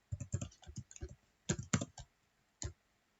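Quick bursts of clicking keystrokes on a computer keyboard, a short run of taps with brief pauses, close and fairly quiet with no talking.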